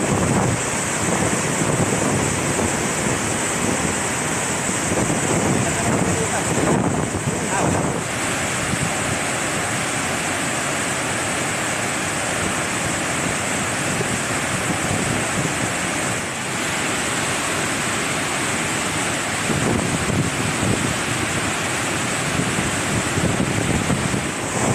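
Water released through six open gates of the Dantiwada dam, about 25,000 cusecs, roars in a dense, continuous rushing wash that stays loud and steady throughout, mixed with wind buffeting the microphone.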